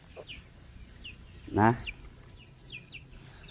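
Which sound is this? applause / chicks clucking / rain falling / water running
chicks clucking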